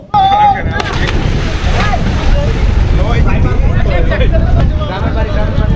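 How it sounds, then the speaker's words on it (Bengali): A boat turns on the Jadukata River in Sunamganj, Bangladesh, with loud wind buffeting, water churning and a boat motor running close by while people talk throughout. "আরে নৌকা ঘুরে যাইতাছে"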